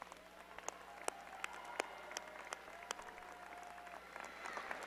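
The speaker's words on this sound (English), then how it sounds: "Graduates, please join me in giving them a big round of applause." Graduates and guests at a business school commencement applaud families and supporters, a faint, distant patter of clapping with scattered sharper claps and low murmuring voices in a large hall.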